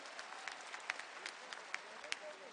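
An audience claps for Atal Bihari Vajpayee at a youth event in Gwalior, light scattered applause with a few sharper claps, fairly distant and faint under a room ambience.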